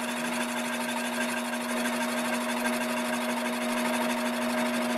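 A metal coil spring is ground down on a power grinder, giving a steady, unbroken whine with a strong constant tone, fairly close and without talk.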